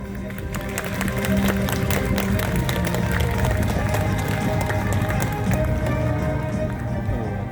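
A large audience applauds steadily at a folk festival opening in the Pereiaslav community as a combined choir of local ensembles is introduced, with dense, continuous clapping filling the whole stretch at even loudness.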